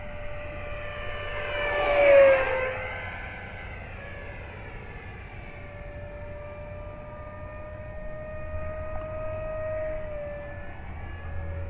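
A small engine-driven FMS Futura model airplane buzzes past, its whining tone rising then dropping as it passes close, then a steady distant drone continues.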